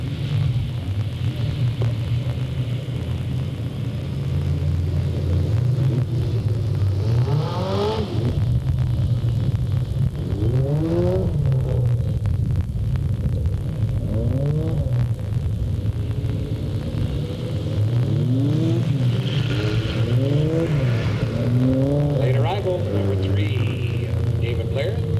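Race cars accelerate at the start of a race at Delta Speedway: a dense, loud engine roar rumbles throughout while an announcer talks over it.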